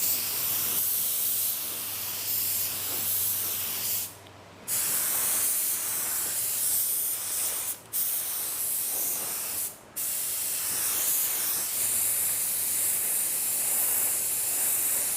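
An automotive spray gun hisses continuously at about 22 PSI while spraying clear coat, a loud close steady spray broken by a few short pauses.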